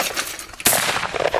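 A single sharp gunshot from a handgun at an outdoor family gathering, a loud close crack with a ringing tail, preceded by faint handling clicks.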